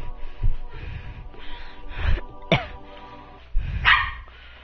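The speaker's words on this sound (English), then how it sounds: "Shut up, dogs!" Dogs bark in several separate bursts, some sharp and close, some softer with gasps and snorts, spaced irregularly with short quiet gaps between.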